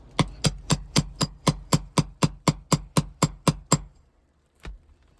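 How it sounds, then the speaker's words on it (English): A nail puller works roofing nails out from under a lifted asphalt shingle: about fourteen sharp, evenly spaced metallic taps in a quick steady rhythm, then a pause and one last louder knock. "I'm not gonna be cranking the shingle back too far, just enough to get my nail puller underneath where it needs to go."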